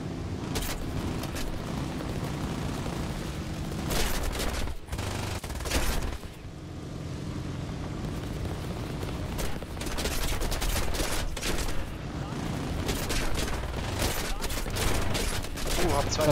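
Aircraft machine gun fire in the video game War Thunder comes in several sharp bursts of rapid shots, separated by stretches of steady engine drone, with someone speaking German at times over the noise.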